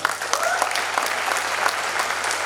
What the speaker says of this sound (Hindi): एक बार चाहूंगा कि जोरदार ताली बजाइए संस्कृति विश्वविद्यालय के लिए